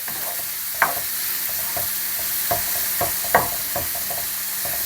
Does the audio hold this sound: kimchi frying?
yes